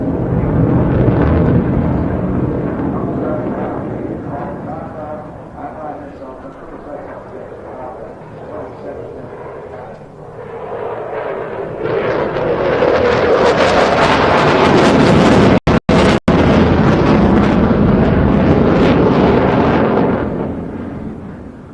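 A Eurofighter Typhoon jet at an air show display, engine roar falling away then building into a loud, broad rush as it accelerates from slow to high-speed flight, with a commentator talking over it.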